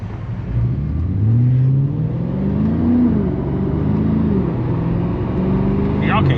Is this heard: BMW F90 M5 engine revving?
yes